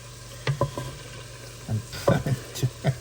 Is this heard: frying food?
yes